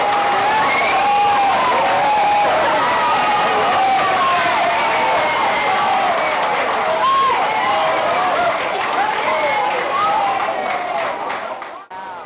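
A crowd of over a thousand people cheers and shouts at a town hall meeting, a loud, dense roar of voices and whoops that holds steady throughout before easing slightly at the very end.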